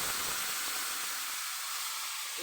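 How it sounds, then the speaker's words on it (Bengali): Tamarind water is poured into a hot pan of fish, setting off a loud, steady hiss of sizzling steam with no talking. "এবার আমি তেঁতুল জলটা দিয়ে দিচ্ছি"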